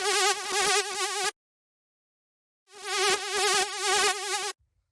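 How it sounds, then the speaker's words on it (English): A synth lead built from two analog saw waves at the same octave plays in two loud bursts, with a buzzing, wobbling vibrato-like tone and a clear pause between phrases. "The next sound we have here is the second lead, which sounds like this"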